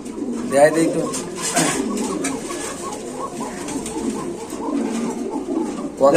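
Maxi Spanish pigeons coo repeatedly at a pigeon market, their soft rolling calls close and steady beneath busy voices of people bargaining.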